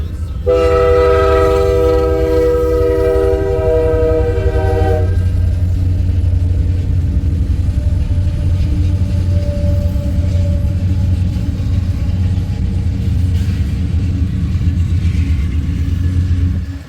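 A train horn blares for a few seconds, then a heavy freight train keeps rumbling past nearby on the Union Pacific Blair Fremont Subdivision with steady low roaring and clattering wheels.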